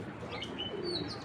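Female black racer pigeon cooing softly close by, a brief low coo under steady room noise with a few faint chirps.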